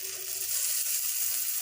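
Garlic paste and ginger paste fry in a hot pan for a curry of snake gourd, giving a steady loud hiss and crackle of sizzling oil up close, with no one talking.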